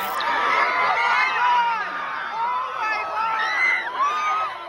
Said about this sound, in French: une rumeur se fait alors entendre dans la foule